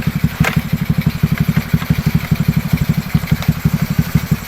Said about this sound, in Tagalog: Ayan, yung motor na coming.